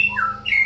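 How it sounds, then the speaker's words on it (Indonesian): A long-tailed white-rumped shama, a murai batu kept as a contest songbird, gives two clear whistled notes that slide downward. The first is brief and the second a little longer, both close and loud over a low background hum. "saya menghadirkan murai batu saya"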